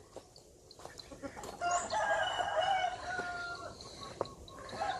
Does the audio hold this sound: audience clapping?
no